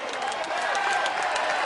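Crowd cheering and clapping at a golf shot that reaches the green near a pond, a steady broadband roar of many voices and hands, heard from a broadcast at moderate distance without talk over it.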